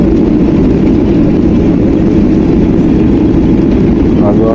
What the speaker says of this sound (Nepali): हामी उडिरहेको प्लेन चाहिँ काठमाडौँको इन्टरनेसनल एयरपोर्टमा ल्यान्ड भयो।